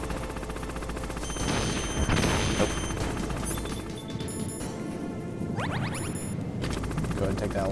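Gunfire aimed at an enemy in the Metal Gear Solid video game: a dense, sustained run of shots and impacts, loud and close, over steady game noise, with some voice-like sound mixed in.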